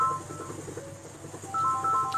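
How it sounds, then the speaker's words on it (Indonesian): A telephone ringtone cuts in during the second half as short, repeated electronic tones over a low, steady room murmur. "Bentar ya, ada telepon ya."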